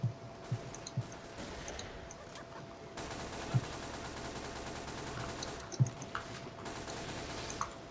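Sniper rifle gunfire in a video game, a handful of separate sharp shots spread apart over steady in-game background noise, with a burst of denser crackling fire in the middle.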